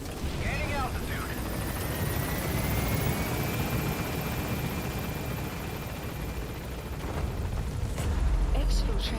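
A helicopter in the Metal Gear Solid V video game climbs away, its rotor and engine roaring steadily and loudly throughout, with faint game effects layered in.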